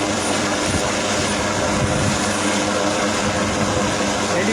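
Helicopter circling over a rescue site in Battagram, a loud, constant rotor and engine drone filling the scene without pause or voices.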